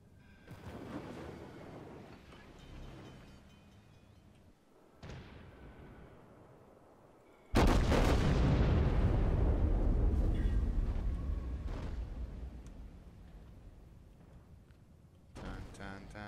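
Warship secondary guns fire in World of Warships, with booming bursts, a sharp loud blast midway that trails off into rumble, then another burst at the end, with someone talking in between.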